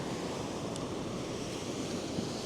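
Waves roll and wash steadily onto a beach at a seaside campsite, a continuous near surf roar with wind noise brushing the microphone and no voices.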